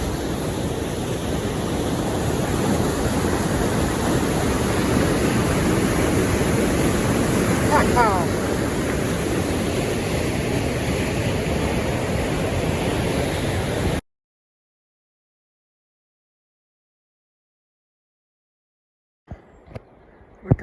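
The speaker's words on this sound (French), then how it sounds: "La cascade elle est tout là-bas." A waterfall at the Vegay cascade near Aiglun roars as a steady, dense wash of broadband noise for about fourteen seconds, then cuts to silence before a brief handling noise.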